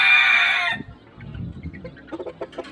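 A Brown Red gamecock rooster with black legs, a young bird of about seven or eight months, gives a loud close call that cuts off, followed by softer scattered clucks and farmyard noise.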